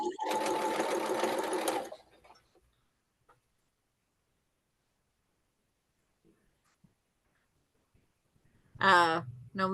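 A sewing machine stitching quilt fabric pieces, a fast loud mechanical whir for about two seconds near the start, then near silence with faint ticks before a second short burst of running at the end.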